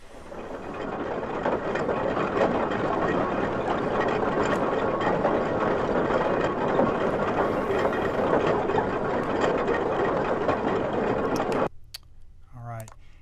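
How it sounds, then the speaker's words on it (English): A dense, continuous mechanical chugging and rumble from a steam-powered tractor, pitched down, low and heavy, runs steadily for about eleven seconds before cutting off, followed by a brief voice. "The next sound is a steam-powered tractor."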